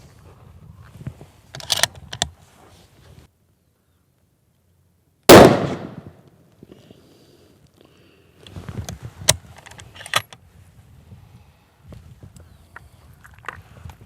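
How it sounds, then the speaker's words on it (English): A Sako 85 Carbonlight hunting rifle fires a single loud, sharp shot, close and alone, followed by quieter handling clicks and shuffling outdoors. "So here goes first shot. First shot ever with the Carbonlight."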